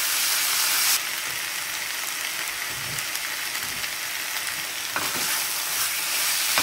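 Chopped tomatoes being stirred and fried in a pan for a Goan chicken masala curry, with a continuous loud sizzle and soft scraping from the stirring, heard alone.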